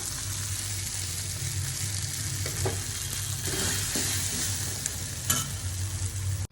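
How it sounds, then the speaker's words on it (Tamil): Beef liver fries in a pan with a steady, close sizzle, broken by a few scraping stirs of a utensil. No one speaks over it. "பார்த்தீங்களாங்க, ஈரல் ஃப்ரை ஆயிடுச்சு."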